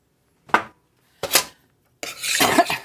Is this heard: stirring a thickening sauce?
yes